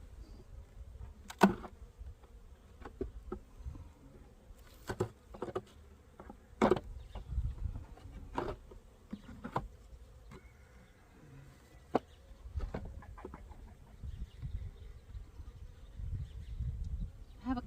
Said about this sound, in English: I have a couple little bees in here,